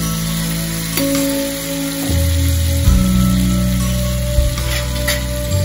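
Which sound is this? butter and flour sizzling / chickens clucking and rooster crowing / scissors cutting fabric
butter and flour sizzling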